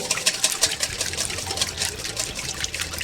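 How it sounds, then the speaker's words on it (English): Eggs whisked in a bowl for vegetable pancake batter, giving a quick, steady tapping and wet clicking rhythm, moderately close and continuous, with no talking. "I'm just whisking the eggs to make sure it's mixed in properly before I put the flour in."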